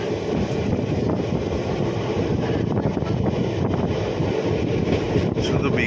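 A delayed passenger train rolls on through sugarcane fields near Ayodhya in Uttar Pradesh, producing a steady, dense rumble and rattle with heavy wind buffeting across the whole stretch, no clear breaks.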